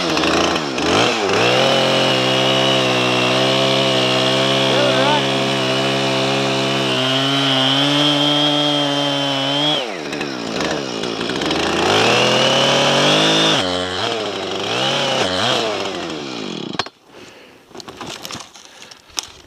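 A chainsaw cuts rotten wood in the bush. The close, loud engine buzzes steadily and shifts pitch as it bites and revs, then dies out into scattered knocks near the end.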